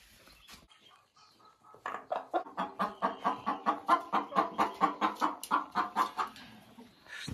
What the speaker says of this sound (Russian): Что нам снесла шелковая курочка?